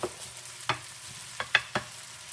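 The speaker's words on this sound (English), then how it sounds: "You hear that sizzling" Stir-fried rice and vegetables in a pan, a few short crackling sizzle bursts and spatters over a low quiet background, close and fairly soft, irregularly spaced.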